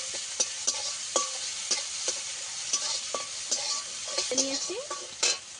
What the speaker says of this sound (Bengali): এই পটলের দানাগুলো আমি একটু ভালো করে ভেজে নেবো